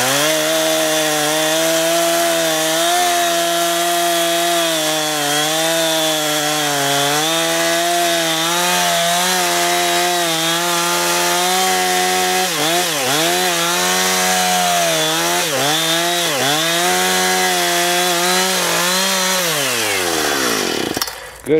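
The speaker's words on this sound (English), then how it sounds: "You can start up your saw and make your cut." A chainsaw with a dull chain cuts a hardwood log held on a timber jack, loud and close, its engine droning steadily with pitch dips under load, then stopping at the end.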